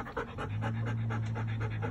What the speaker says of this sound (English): The dogs are just out here.